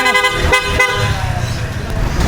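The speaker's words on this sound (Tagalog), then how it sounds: "Ganda ng busina mo. Parang ano, truck ng basura." Loud, sustained vehicle horn resembling a garbage truck horn, blaring close by with a steady tone over rumbling street noise, while a voice talks briefly underneath.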